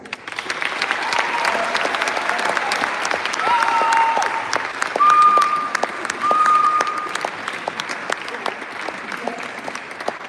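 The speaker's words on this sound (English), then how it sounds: "Let's give one more applause to our dear speakers." An audience applauds the speakers at a TEDx event at LCC University, with a steady, dense wash of clapping from a crowd that runs the full length and swells slightly midway.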